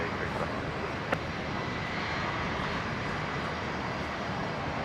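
Jet aircraft landing at Brisbane International Airport, a broad steady engine roar close by, with voices talking over it throughout.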